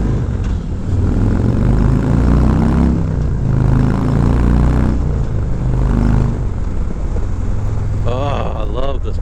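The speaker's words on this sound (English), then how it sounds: "we're going to crank the bike up here a little bit, get around this turn here" A motorcycle with a new aftermarket exhaust, ridden on a Michigan road, accelerates around a turn. Its engine drones loudly and close throughout, with wind buffeting. The pitch swells and eases, and a voice speaks briefly near the end.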